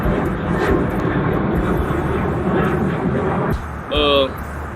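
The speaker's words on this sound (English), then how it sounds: "I'm waiting for the plane to pass." Airplane passing overhead outdoors, a steady broad roar holding for several seconds before easing off, followed by a brief tonal vocal sound at the end.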